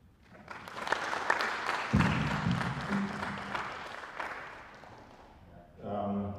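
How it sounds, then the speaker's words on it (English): Audience applause at an agricultural extension symposium, a crowd clapping steadily and loudly before easing off, with a voice breaking in at the close. "A round of applause for Mr. Kinanji and the Professor"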